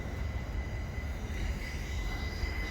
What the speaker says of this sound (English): there goes our Class 378 off to London Victoria